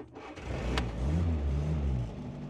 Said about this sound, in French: On va démarrer cette magnifique Simca 8 avec toujours le système du d'abord contact.